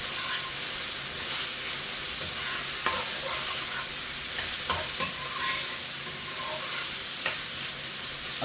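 Roast pork fried rice with eggs is stirred in a hot pan over lowered heat, a continuous bright sizzle and hiss punctuated by scattered scrapes and taps of the utensil.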